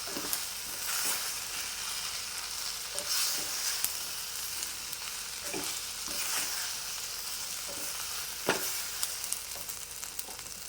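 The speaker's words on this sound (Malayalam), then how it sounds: "മുളക് പൊടി മഞ്ഞൾപ്പൊടിയൊക്കെ ഇട്ടിട്ട് ഒന്ന് അതിൻ്റെ പച്ചമണമൊക്കെ പോകുന്നവരൊന്ന് ഇളക്കിയെടുത്തിട്ടുണ്ട് കേട്ടോ." Kashmiri chili powder and turmeric sautéing in a pan for an okra curry, a soft steady sizzle broken by repeated scraping strokes of a spoon as the mixture is stirred, with no voices.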